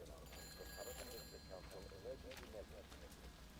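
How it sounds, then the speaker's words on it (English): A telephone rings somewhere inside a building in Everybody's Gone to the Rapture, a faint repeated bell trill heard at a distance beneath a voice talking over it. "There's a phone ringing."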